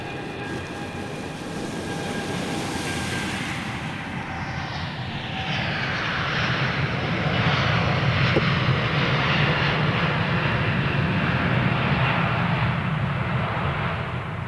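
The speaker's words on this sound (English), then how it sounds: "He's going to make a left turn, Clyde. Iberia going" Iberia airliner at London Heathrow Airport, a loud steady jet engine roar that swells after a few seconds and holds as a broad, close rumble and hiss, with no talk over it.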